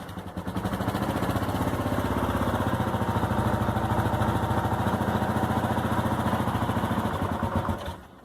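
A motorcycle that had sat unused for four months runs steadily just after finally starting, likely with the choke partly on. Its loud, close, rough chugging idle holds for about seven seconds, then cuts off abruptly.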